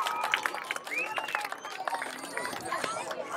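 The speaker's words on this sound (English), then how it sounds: "Give them a round of applause, guys." A crowd at a 2023 senior night applauds the senior players, with steady scattered clapping mixed with chatter and occasional whoops from a noisy room.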